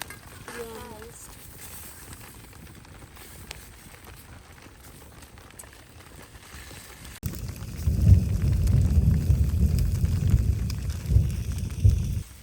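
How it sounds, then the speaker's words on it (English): Rain falls outdoors, faint hiss at first, then swells into a louder, dense patter on surfaces around a campfire cooking spot. "the rain's picking up"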